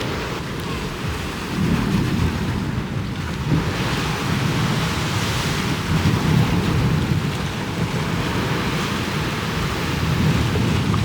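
Ocean waves break and wash up a beach in a continuous loud roar, with surges of surf and spray rising and falling over steady rushing noise.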